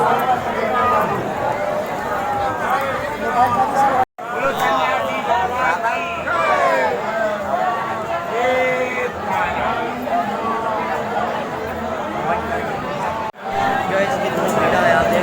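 A large crowd of pilgrims at Bageshwar Dham temple makes a dense, continuous babble of many voices, with shouts and chatter close by. It briefly cuts out twice.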